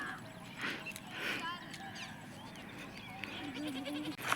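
Goats bleat several times while grazing outdoors, their calls moderately close and wavering over a steady background, with people talking at points around them.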